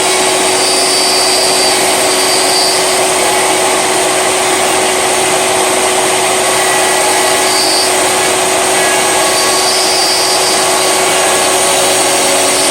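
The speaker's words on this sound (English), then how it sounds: "This router part comes in and out and right and left." A Shaper Origin handheld router cutting wood, a loud, steady high-pitched whine with a constant tonal hum that runs unbroken throughout, no talking.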